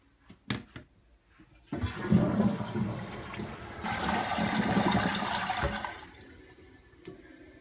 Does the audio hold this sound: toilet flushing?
yes